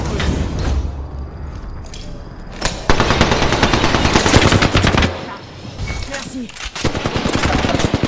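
Loud, rapid automatic gunfire from an Apex Legends match, with sustained bursts and a brief pause before the shooting resumes, while a voice speaks over it.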